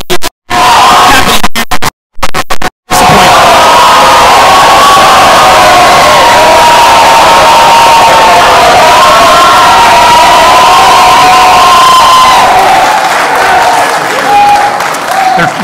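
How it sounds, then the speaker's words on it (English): A town hall audience bursts into loud cheering, whoops and clapping after brief gaps, the crowd noise staying strong and continuous, with voices shouting over the applause. "They're clapping for you"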